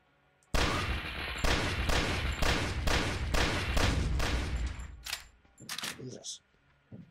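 Rapid, loud bursts of gunfire from shooting robots in the video game King of the Woods, a series of sharp repeated shots followed by a few separate blasts near the end.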